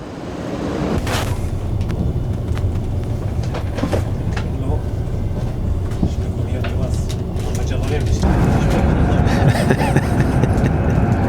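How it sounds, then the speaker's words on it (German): Interior of a moving German passenger train, a steady loud rumble of wheels and wind with clicks and rattles, growing louder and harsher near the end, while voices talk over it. "Wir sind im Zug."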